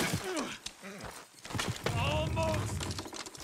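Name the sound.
horse hooves, from a video game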